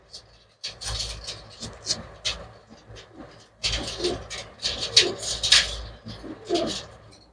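Pigeons coo in bursts of soft, throaty calls and flutters nearby, with people talking over and between the birds.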